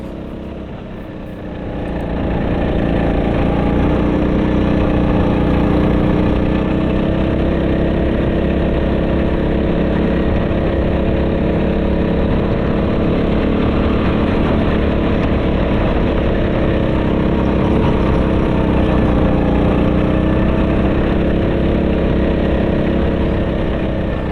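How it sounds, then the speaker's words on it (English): A hire go-kart's small engine drones loudly and steadily at close range throughout a lap on an Australian track, the pitch wavering slightly as it works through corners, with no voices. "You could really hear it in the motor, it wasn't straining as much."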